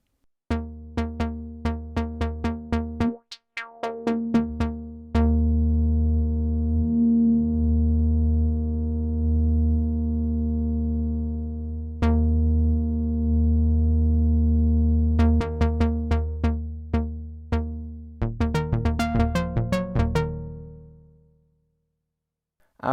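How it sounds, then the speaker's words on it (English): A Prophet 6 synthesizer patch with the high-pass filter resonance turned fully up plays bright, buzzy tones: bursts of rapid plucked notes and long sustained chords with a resonant peak, clean and prominent, ending in a short decay. "push the resonance all the way up on the high pass and dial in the cutoff amount"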